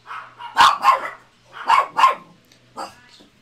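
A dog barks in the background of an Omegle video chat, two pairs of sharp barks followed by a softer yip, fairly close and loud with no talking over them.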